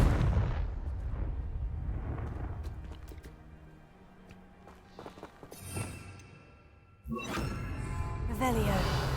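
A Confringo fire spell blasts in the Hogwarts Legacy video game, giving a sudden loud burst with a crackling, fiery tail. It is mixed with game music and ambient sound, and a voice speaks over it.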